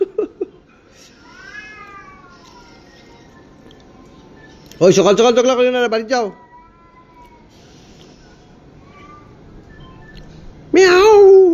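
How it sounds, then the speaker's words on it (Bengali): Two cats fight with drawn-out, wavering caterwauls, loud and close in two fierce bursts, while someone talks between the yowls. "দুইটা বিড়ালে মাইল লাগছে"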